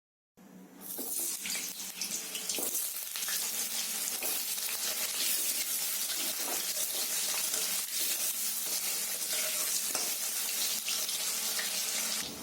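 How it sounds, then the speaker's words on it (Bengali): Potatoes frying in hot oil in a wok-style pan for a rohu fish curry, giving a steady, loud, hissing sizzle with a watery crackle that holds evenly from start to finish, with no talking. "এরপর আলুগুলো ভেজে নিব।"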